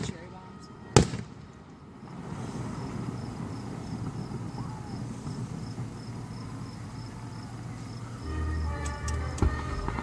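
Fireworks at a 2014 display in Monroe, Wisconsin: a single sharp, loud bang near the start, then a steady outdoor hum of crowd noise and chirping crickets, with a few fainter pops and crackles toward the end.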